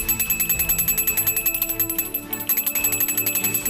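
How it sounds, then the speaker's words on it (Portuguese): A bell hangs from an ox's neck and clanks in a steady metallic rhythm as the animal walks, ringing close and loud throughout without any talk. "conforme ele ia andando, o sino ele ia tocando"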